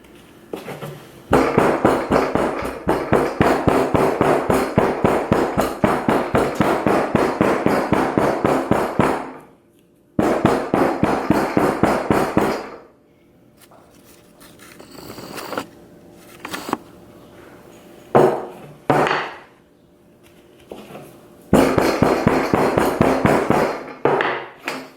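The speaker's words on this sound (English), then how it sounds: "As I hammer, I add more sand." Rapid, steady hammering packs sand into a jewelry sand-casting mold, loud close taps in long dense bursts broken by pauses with quieter scraping and handling sounds.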